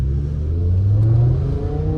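BMW E60 M5 engine accelerating inside a tunnel, a steady, rising mechanical roar with reverberant low rumble, close and continuous.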